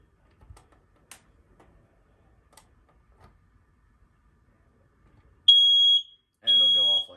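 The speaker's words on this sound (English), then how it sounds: "To test these alarms, generally there's a button on there that says push to test or test." A household smoke alarm blares as its test button is held down, giving two loud, piercing electronic beeps after a few quiet clicks and handling noises.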